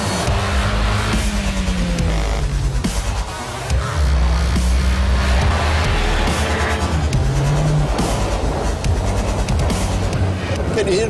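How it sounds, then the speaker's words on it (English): A 2013 Audi A1 quattro with a 2.0 TFSI engine drives on snow, its engine note rising and falling through the gears, loud and close, with a voice talking over it. "Can you hear the engine?"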